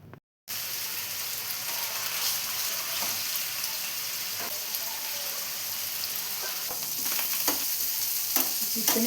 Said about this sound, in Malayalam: ചിക്കൻ ഇപ്പോൾ ഇവിടെ ഫ്രൈ ആയി വരുന്നുണ്ട്.